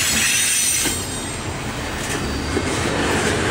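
The tail end of a Norfolk Southern intermodal freight train rolls past nearby, giving a steady loud rumble of wheels on rail with a brief wheel squeal, and no voices over it.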